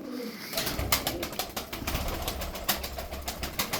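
Tumbler pigeons at a loft coo in a dense, continuous chorus with flurries of chirps and wing-like flutter, loud and close, no talking.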